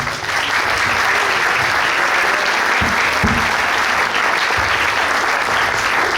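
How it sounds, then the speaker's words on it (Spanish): Loud, sustained applause from an audience thanking guests at an event, a thick continuous roar of clapping with a few low thumps underneath, steady throughout. "Muchas gracias y este aplauso para vosotros."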